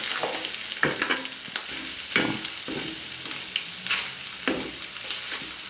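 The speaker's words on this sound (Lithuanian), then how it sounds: "mėgstu labiau paskrudusius kiaušinius kepti, valgyti ant sviesto" Eggs fry in butter in a pan with a little turmeric, cooked until browned. A steady crackling sizzle is broken by repeated scraping and stirring strokes, with no talking.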